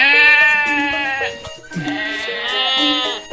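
Cartoon goats give long, wavering bleats, two drawn-out calls loud and close with a brief pause between.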